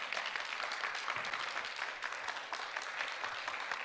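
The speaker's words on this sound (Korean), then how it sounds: "우리 박수로 환영하겠습니다." A church congregation applauds to welcome a member at a Sunday service, a steady wash of clapping from many hands filling the room at moderate volume.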